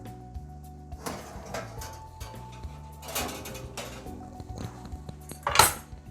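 Metal baking tray of börek pulled from a home oven: several clanks and rattles of the pan and oven rack, with a sharper metallic clatter near the end.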